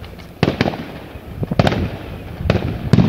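Fireworks burst outdoors in a quick irregular series of sharp cracks and pops, several clustered close together, with crackling residue between the reports.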